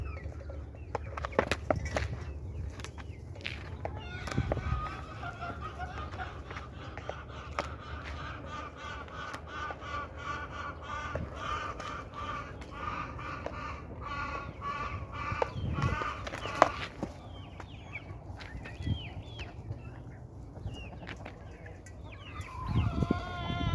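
Backyard chickens cluck and crow in a busy flock, with repeated calls and a rooster's crow rising over a steady murmur of hens, moderately close and continuous.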